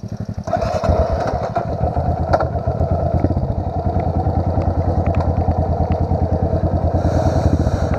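A ProTork TR100F mini motorcycle being ridden up an incline, its small single-cylinder engine chugging loud and close with a steady rapid pulse and mechanical clatter, rising slightly near the end.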